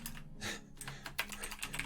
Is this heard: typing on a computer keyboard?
yes